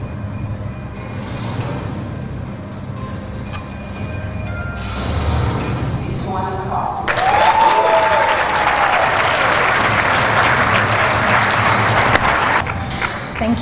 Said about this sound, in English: Another big round of applause for Cassandra.